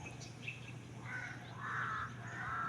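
Several crows call in overlapping harsh caws, fairly distant and moderate in volume, against a steady low hum.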